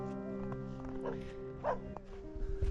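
Dogs up on a deck beside a small pond trail at Lake Tahoe bark and whine in short yips over a steady background, fairly close and moderately loud.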